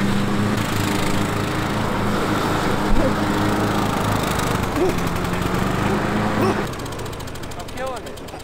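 Riding lawn mower engine running loud and steady throughout, a droning buzz with occasional bumps, while people talk over it.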